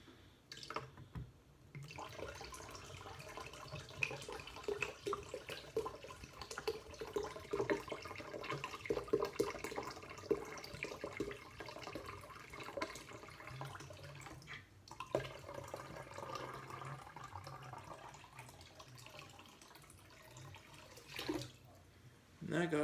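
Water trickles and splashes into a Smirnoff bottle in a quiet run of pouring and dripping, with brief pauses, while a voice speaks faintly in the background.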